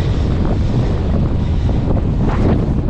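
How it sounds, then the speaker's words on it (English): Strong wind roars and buffets the microphone continuously, a loud, steady rushing blast with no pauses. "Very windy."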